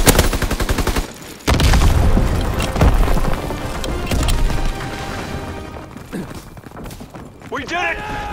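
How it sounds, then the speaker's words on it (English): Heavy combat in Call of Duty WWII during an assault on an ammo supply: a rapid machine-gun rattle cuts off, then a loud sustained blast rumbles for several seconds, with scattered shots and crashes and voices shouting over it. "The Krauss ammo supply is destroyed!"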